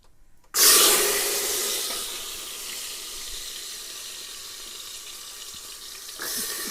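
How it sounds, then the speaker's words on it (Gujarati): Potatoes and brinjals being washed under a running kitchen tap, a steady hiss of flowing water starting abruptly, with faint rubbing and splashing, no talk. "સારી રીતે ધોઈ નાખશું બટેટા અને રીંગણાને"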